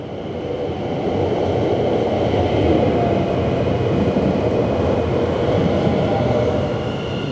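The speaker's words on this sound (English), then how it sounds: "here's a sprinter train to Dordrecht" A Dutch sprinter train bound for Dordrecht rumbles along with a loud, continuous low roar and steady rail noise, heard close and without talking.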